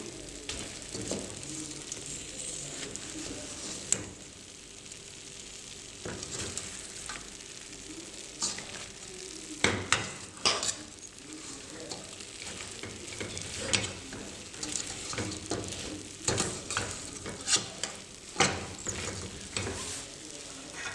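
Sugar caramelizing in a pot for homemade carob juice while being stirred: a soft, constant sizzle with irregular scraping and clinking strokes that come in clusters and grow busier toward the end.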